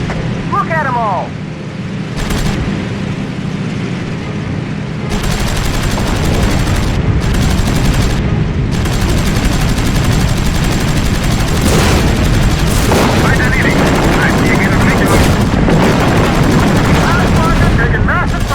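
Aerial gunfire in the WWII air-combat game Heroes Over Europe: loud, continuous machine-gun bursts and booming blasts that grow denser after the opening seconds, with voices heard among the din.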